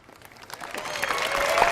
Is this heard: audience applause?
yes